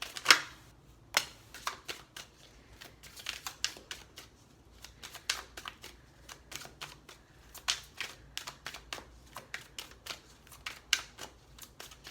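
Tarot cards being shuffled and pulled from a deck, close and quiet: a run of dry crisp riffles, slaps and flicks in irregular bursts over several seconds, with no talk.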